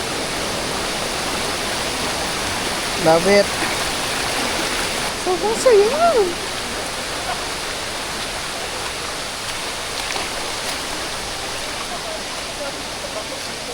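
Waterfall and rushing mountain stream on a Laiban hiking trail, a steady broadband roar throughout, with brief voices talking over it near the start.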